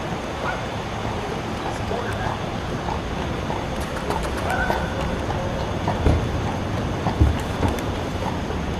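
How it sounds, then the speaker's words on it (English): A carriage horse clopping through Philadelphia streets, steady hoofbeats mixed into busy city noise and traffic rumble, with a few sharper knocks standing out near the end. "Everybody loves the horse."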